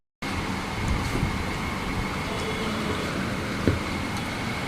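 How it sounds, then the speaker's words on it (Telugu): Car driving across Howrah Bridge in Kolkata, heard from inside as a steady low road rumble with traffic noise around it, continuous and moderately loud with a brief bump. "కారులో వెళ్తున్నాం."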